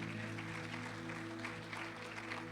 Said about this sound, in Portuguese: eu gostaria que você aplaudisse ao Senhor pela vida do pastor Paulo